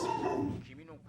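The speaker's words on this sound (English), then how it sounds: "Probably barking at a squirrel outside." A dog barks outside, a brief burst of yips and woofs that fades under a speaking voice, the barking fairly distant and mixed with the talk.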